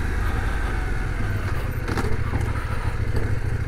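CF Moto 800MT adventure motorcycle ridden off-road over rocky ground in first gear, its engine a steady close-up low drone with rumble and wind buffeting throughout, rising slightly midway.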